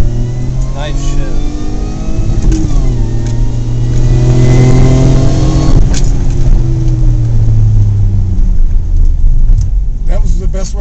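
A supercharged 2000 Toyota Solara makes a drag racing run at Irwindale, its engine loudly revving and accelerating through rising gear pulls, with voices talking over it.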